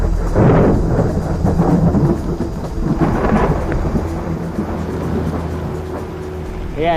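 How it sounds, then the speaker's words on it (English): A tropical thunderstorm over a river while fishing for piraiba: deep rolling thunder booms loudly at the start and again midway over a steady hiss of heavy rain, with no talking. "I hope that this storm can bring some more water."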